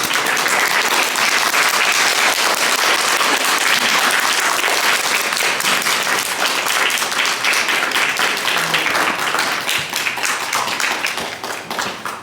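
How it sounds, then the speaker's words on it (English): A live community-theatre audience applauds the actors at the end of a staged play, dense sustained clapping from many hands filling the room, loud and close, holding steady before thinning out at the very end. "We got a round of applause for the"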